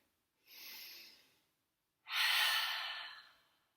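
Two close breaths during a yoga high lunge: a soft inhale, a pause, then a longer, louder airy exhale that trails off, with no talking.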